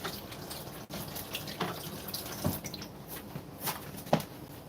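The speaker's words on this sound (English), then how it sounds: "let me wash my hands again" Hands are washed under a running tap in a home kitchen, with a soft stream of water broken by splashes, rubbing and a few sharper drips, all fairly quiet and close.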